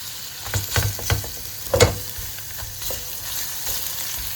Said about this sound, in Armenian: Սոխ ավելացնում եմ յուղի մեջ։